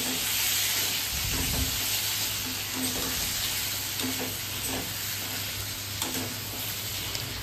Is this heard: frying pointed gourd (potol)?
yes